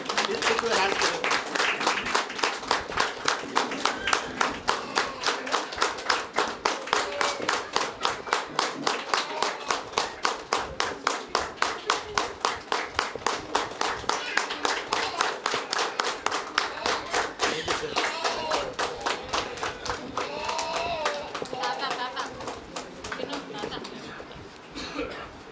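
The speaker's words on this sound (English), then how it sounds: "So I request all of you to give a standing ovation to our policemen. So the clapping your hands." A large crowd claps steadily and vigorously at a police officer's retirement function, a dense rhythmic ovation of many hands that carries on for about twenty-five seconds before thinning slightly at the end.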